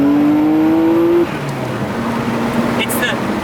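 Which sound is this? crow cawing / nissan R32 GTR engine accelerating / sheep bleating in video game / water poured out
nissan R32 GTR engine accelerating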